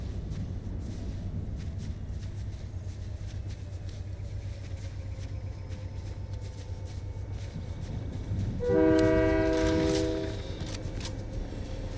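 A passing train in the video game Fortnite rumbles steadily, then a loud multi-tone horn blares for about two seconds near the end over the continuous low drone, with no speech.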